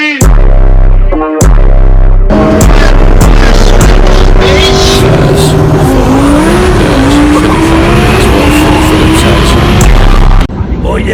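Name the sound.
turbocharged Jeep engine revving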